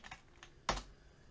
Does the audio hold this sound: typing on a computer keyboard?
yes